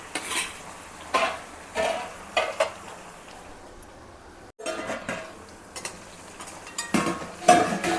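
Onions and curry leaves fry in a pan at home for potato curry, a steady soft sizzle broken by repeated scraping stirs and light clinks of a spoon against the pan, with a brief pause midway.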